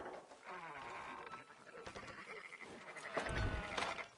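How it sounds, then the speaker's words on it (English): Sheep bleat several times close by, with some overlapping calls and a louder bleat near the end, amid a busy farm background. "Fine sheep."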